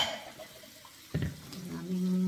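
Water runs from a faucet at a sink while dishes are washed, with a soft splash, a brief clatter, then a louder steady stream toward the end, fairly quiet and close.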